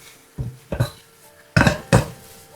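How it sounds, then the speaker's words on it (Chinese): Stir-fried mung bean sprouts seasoned with oyster sauce and soy sauce are tipped from a wok onto a plate, giving four sharp metallic clatters of spatula on pan, close and loud, with no talking. "出鍋裝盤"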